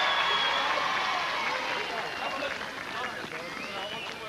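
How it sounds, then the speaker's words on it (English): A crowd at a 1982 It's a Knockout team games contest between Lochgilphead, Oban and Perth applauds the Oban team as they finish, a steady wash of distant clapping and crowd noise with a commentator talking over it. "A little applause for Oban as they finish."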